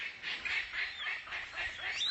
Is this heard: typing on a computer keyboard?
no